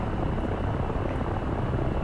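Steady, close drone of a Bell 47 Sioux helicopter engine and rotor in the DCS World flight simulator, throttled up to about 78% RPM, a continuous even rumble with no pauses.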